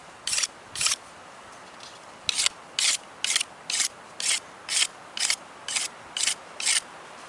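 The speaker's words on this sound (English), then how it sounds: "just scraping all those extra leaves off of there" A knife blade scraping leaves off a stick gives a dozen evenly spaced, close scrapes, each short and rasping, in a steady rhythm with quiet pauses between strokes.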